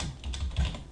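Brief, soft tapping of keys on a computer keyboard as a name is typed, a few quick close clicks in under a second with no voices.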